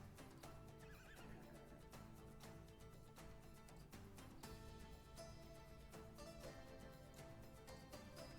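A horse from a stable building in the video game Drop Duchy neighs with clip-clopping hooves, quiet and mixed into rhythmic game music with steady beats.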